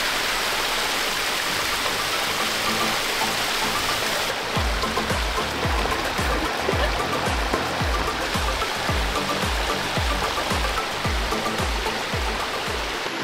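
A mountain stream on a hiking trail rushes steadily nearby, with a constant broad wash of flowing water. Rhythmic low thuds of footsteps run beneath it as someone walks along.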